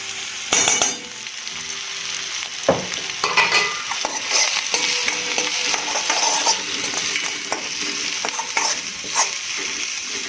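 Green chili and Maggi manchurian stir-fried on high flame, a steady loud sizzle with repeated stirring scrapes and a few sharp utensil knocks against the pan throughout.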